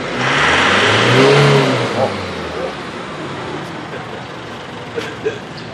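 An Isuzu D-Max pickup engine revs up loudly to around 3,000 rpm, holds briefly, then drops back to a quieter idle with faint clicks.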